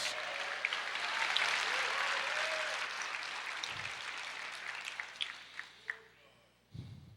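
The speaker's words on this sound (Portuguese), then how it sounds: "Aplauda o Senhor, diga glória a Deus." A church congregation applauds during a sermon, a dense wash of clapping that holds steady for several seconds and then thins and fades, with a few scattered claps and soft thumps near the end.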